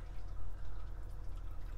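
A Whale water pump runs as water begins coming through, giving a low, rapid mechanical pulsing hum with a light liquid hiss over it, steady and close.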